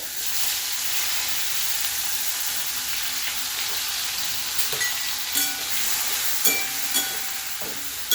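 Bitter gourd pieces fry in a hot pan, a steady loud sizzle and hiss throughout with a few scraping stirs toward the end.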